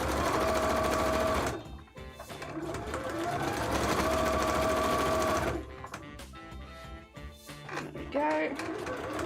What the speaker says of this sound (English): I'm gonna get a top stitch going around this corner.